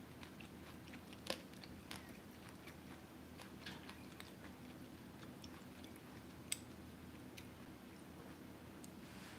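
Quiet, close chewing of crunchy undercooked rice, with soft repeated bites and a few sharper crunches over a low room background.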